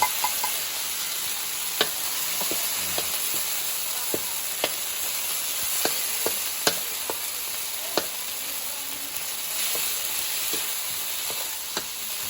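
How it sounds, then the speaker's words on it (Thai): Canned fish chili paste with garlic and shallots stir-fried in a pan, giving a steady sizzle and hiss with scattered scraping clicks of a spatula throughout; no talking. "ผัดคลุกเขาให้เข้ากัน"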